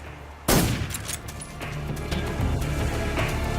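Gunfire in the video game Metal Gear Solid 3: Snake Eater, heard as a sudden loud burst of rapid shots followed by sustained crackling fire and echoing blasts with no pause.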